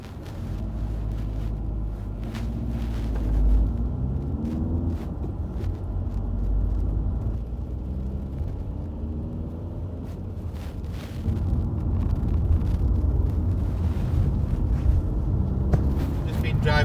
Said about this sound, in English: driving for 30 seconds up this hill now and coming up towards the roundabout